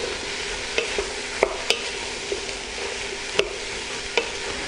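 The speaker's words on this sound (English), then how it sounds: "The sliced leeks. There's a little bit of a stir in." Sliced leeks sizzle steadily in a pan for tomato and chickpea soup, with scattered clicks and scrapes of a spoon stirring them close by.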